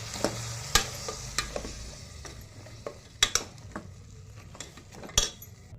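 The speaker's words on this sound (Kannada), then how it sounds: "ನಾವು ರುಬ್ಬಿಟ್ಕೊಂಡಿರೋಂಥ ಮಸಾಲೆನ ಹಾಕೋಣ ಹಾಕಿ ಒಂದ್ಸಲ ಚೆನ್ನಾಗಿ ಮಿಕ್ಸ್ ಮಾಡಬೇಕು" Ground masala is stirred into village-style country chicken sambar in a pan: a ladle scrapes and taps the metal in scattered sharp strokes over a soft steady sizzle, close and fairly quiet, with no voices.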